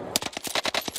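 Rapid automatic fire from an Armaguerra submachine gun in the game Warzone: a fast, steady burst of about nine close, punchy shots packed into one second, with no voices.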